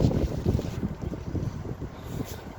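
An Emerson Seabreeze roll-about fan with a shaded-pole motor runs nearby. Its airflow buffets the microphone in an uneven, fluttering rush with soft low rumbling.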